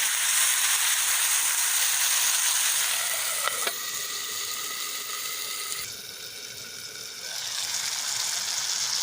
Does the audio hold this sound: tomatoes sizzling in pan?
yes